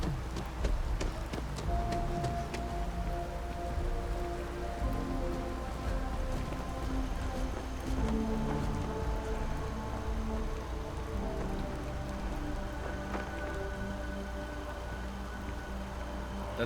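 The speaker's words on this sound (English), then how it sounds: "Whoa, there's rain. There's like dynamic weather." Steady rain in the video game Starfield, a dense, continuous patter falling across the surroundings, with soft tonal game music underneath.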